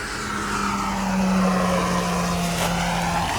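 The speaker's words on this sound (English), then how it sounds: "it is a solid flying airplane" Hangar 9 Fun Scale P-47 Thunderbolt RC warbird on 4S electric power flying overhead during its maiden flight, a steady loud motor and propeller drone holding a constant tone, with no talk.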